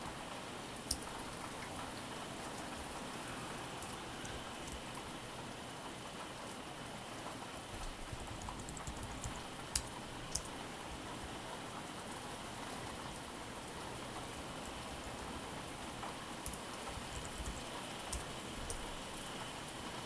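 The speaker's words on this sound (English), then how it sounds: "it really is really raining out there" Steady rain pours down outdoors, a continuous broadband hiss with occasional sharper drop ticks, heard faintly from indoors at an even level throughout with no speech.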